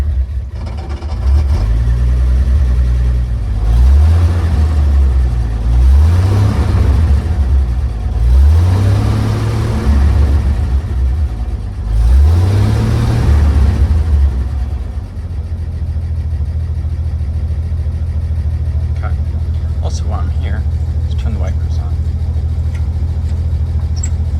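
A 1950 Chevrolet 4400 dump truck engine cranks and fires, then revs up and down in four or five loud swells before settling into a steady idle, close and with no talk.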